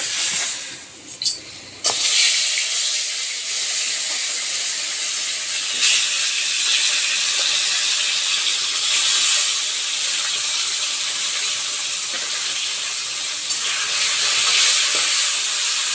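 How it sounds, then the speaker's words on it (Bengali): Fish frying in hot mustard oil in a wok, a steady loud hiss and sizzle that runs continuously after a brief quieter start, with no talking. "কড়াইতে সর্ষের তেল দিয়েছিলাম, সেটা গরম হয়ে গেছে। এবার আমি মাছ ভেজে নেব।"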